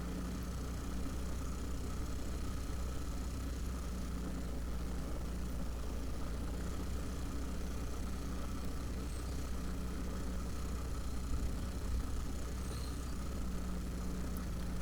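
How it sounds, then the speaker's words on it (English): A steady, close engine drone from an ATV ridden along a trail, its exhaust rumbling continuously with slight shifts as the rider works the throttle, with no voices over it. "Just love listening to that exhaust note"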